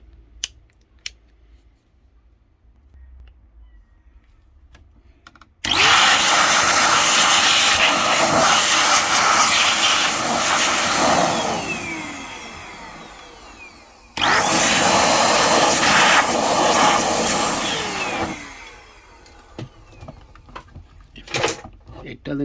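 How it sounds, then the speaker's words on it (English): An X Power air blower cleans dust out of a vintage Erres AM/FM radio receiver: two loud, steady hissing blasts of air, the first about eight seconds long and the second about four, with quiet gaps before, between and after. "I am using this X Power air blower to take the dust out basically."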